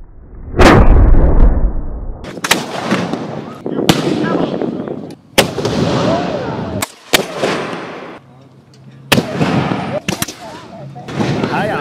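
Musket volleys crack out at a Revolutionary War battle reenactment, a loud opening blast followed by a series of sharp shots every second or so, some overlapping, with voices calling between them.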